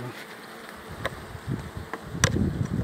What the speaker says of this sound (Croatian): Znači, vidimo i pčele ovde.